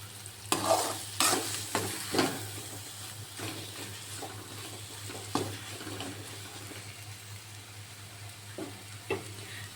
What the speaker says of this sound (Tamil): இப்போ பார்த்தீங்கன்னா நல்லா வதங்கிட்டு இருக்குது